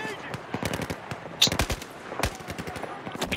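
Bursts of automatic rifle fire in the shooter game Battlefield 4, sharp repeated cracks in rapid strings with short gaps, close and punchy.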